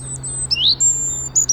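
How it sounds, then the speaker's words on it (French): European robins, great tits and starlings sing close by, giving quick high whistles and thin rising chirps in short bursts over a faint steady hum. "Déjà, on a du rouge-gorge familier, on a de la maison charbonnière. On entend les étourneaux aussi."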